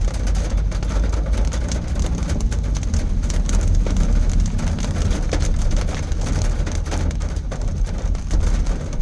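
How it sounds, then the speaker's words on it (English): Heavy rain pours steadily onto flooded streets, a dense continuous hiss and patter with a low rumble from passing vehicles underneath and faint bird calls in the background, no speech. "Start heavy rain again."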